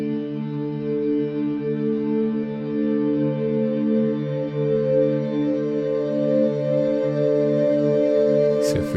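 A glassy synthesizer texture built in Omnisphere holds sustained layered tones that slowly swell and brighten, with a shimmering burst near the end and nothing else alongside.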